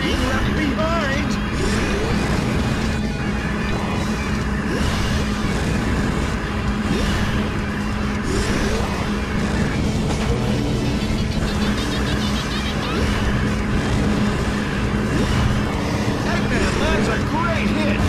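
Karts racing along a track in Sonic & SEGA All Stars Racing, a continuous loud engine drone with whining motors and passing vehicle sounds layered under music and talking throughout.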